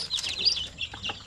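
Native zampen chickens give a short burst of high clucks and chirps close by, quick and scattered over about a second.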